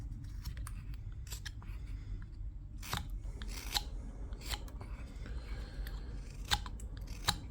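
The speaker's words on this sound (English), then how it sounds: "making these little scoop cuts." Small scoop cuts made with push cuts, giving a run of soft, close scraping and snipping strokes at an irregular pace over a quiet background, with a few sharper crisp cuts standing out.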